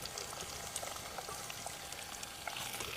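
Green chillies and thinly sliced onion fry in a pan, a soft continuous crackle and patter of oil with small pops throughout, fairly quiet and with no talking.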